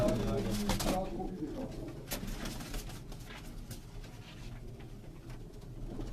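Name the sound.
Firozpuri pigeon cooing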